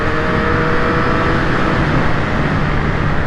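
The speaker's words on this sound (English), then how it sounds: "Those exhaust pipes would never pass noise testing on any other circuit" Moto Guzzi motorcycle engine on a closed race circuit, roaring loud and steady through unbaffled exhaust pipes, a close, sustained rumbling drone with no talk.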